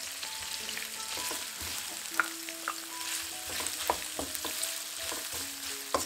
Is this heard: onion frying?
yes